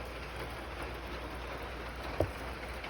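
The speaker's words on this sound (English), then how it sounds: "now they're just sitting here watching the rain." Rain falls outside an open door in a steady, soft hiss with faint patter, heard from indoors, with one brief soft thump near the end and no talking.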